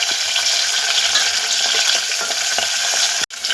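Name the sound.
tomato added to sizzling onions in pan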